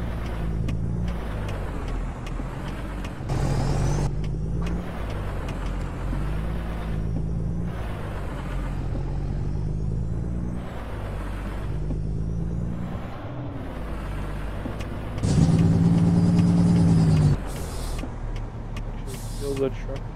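A heavy truck in American Truck Simulator rolls downhill under the push of its cargo, engine rumbling low and steady with a brief louder tonal surge near the end.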